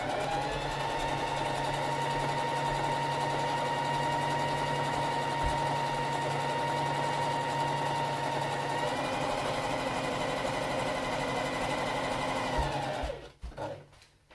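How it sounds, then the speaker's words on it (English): A Compton Q sewing machine stitches and backstitches a tote bag, its steady mechanical whir running loud and unbroken for many seconds before it abruptly stops near the end. "you're just going to sew a few stitches and then go back and back stitch"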